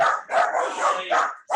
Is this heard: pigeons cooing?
no